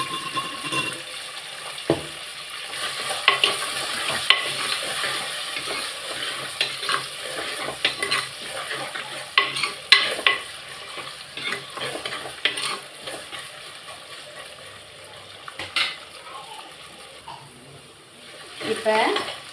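Half of the garlic goes into a frying pan and is stirred, producing a continuous sizzle broken by repeated scraping and clinks of a spatula against the pan, close and fairly loud throughout.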